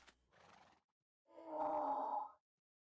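A mule in the Minecraft snapshot 22w42a makes a short, soft call and then a longer, louder whinnying bray. Both sounds are close and clear, with no talking.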